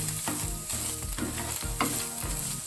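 Chopped onion and ground beef stir-fried together for beef chao fan, a steady loud sizzle with repeated scraping and clattering strokes as the pan contents are tossed, no voices.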